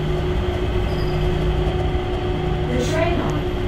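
An airport transit train rolls into a station with a steady low rumble and hum, a faint rising whine near the end, under a continuous announcement voice.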